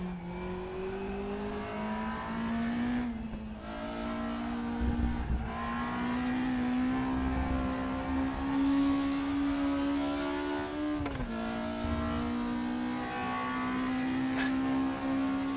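A race car engine in the RaceRoom Racing Experience video game drones at high revs, holding a steady sustained pitch with brief dips at gear shifts before climbing again, loud and continuous with no talking.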